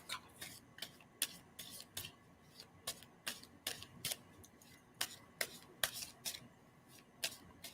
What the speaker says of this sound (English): And I'm going to stop shuffling.